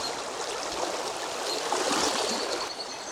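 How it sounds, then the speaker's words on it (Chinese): A fast, turbulent mountain river in the deep mountains of Sichuan rushes past nearby, a loud, steady broadband roar of churning water with no voices. "我们看这个河水啊，它还是比较湍急的。"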